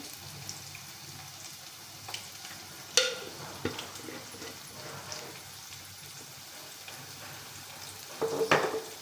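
Chopped onion with salt cooking in a pan, a soft low sizzle running underneath while a spoon stirs and scrapes a few times, with sharper clinks near the end, close and fairly quiet.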